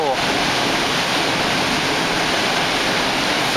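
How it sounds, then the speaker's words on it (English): A huge waterfall thunders from behind the falls under a large carved-out rock dome in a wet, mossy forest, a loud, steady, unbroken roar filling everything. "So much water and it's so loud."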